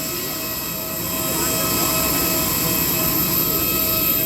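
Steady roaring drone of an airliner's jet engines, heard up close just before boarding a flight in Bangkok, loud and continuous with a constant high whine on top, swelling slightly after the first second.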